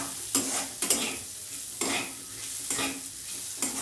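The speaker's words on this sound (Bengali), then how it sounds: "আর একটু লবণ, জিরে বাটা, সব মশলা দিয়ে এবার ভালোভাবে কষিয়ে নেব।" Spices with salt and cumin paste are sautéed for a Bengali fish-head murighonto made with katla fish head. A soft, steady sizzle runs under rhythmic scraping stirs about once a second, close and without talk.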